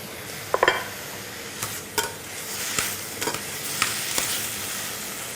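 Food frying in a pan covered with a plate, a steady muffled sizzle with a few sharp crackles and pops spread through the clip, no voices.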